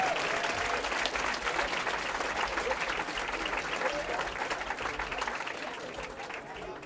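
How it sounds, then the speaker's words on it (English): Loud, sustained applause from a crowd at a Wisconsin high school bowling championship, team division, dense clapping that holds steady for the whole stretch and fades slightly toward the end, with no talk over it. "let's hear a big round of applause for the North Stars"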